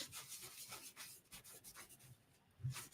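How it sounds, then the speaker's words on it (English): A cloth rubbing embossing powder off a heat-embossed card, soft repeated scrubbing strokes in a quick rhythm, faint and close. "just kind of rub, get all that powder off of there"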